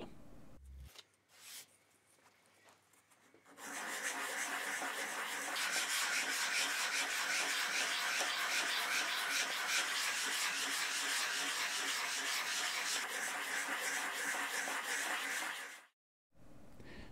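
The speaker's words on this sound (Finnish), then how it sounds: "Toista karhennus hienojakoisemmalla hiomapaperilla." Fine sandpaper rubs steadily along a cross-country ski base, roughening the grip zone in a continuous close, rapid scratching that runs for over ten seconds after a few quieter starting strokes, with no talk.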